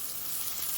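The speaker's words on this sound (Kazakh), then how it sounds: "2-3 минут сарғайғанша қуырып алатын боламыз" Finely chopped enoki mushrooms fry in a little oil in a pan, giving a steady, close, even sizzle with no voices.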